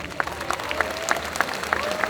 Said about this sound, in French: Un tonnerre d'applaudissements, s'il vous plaît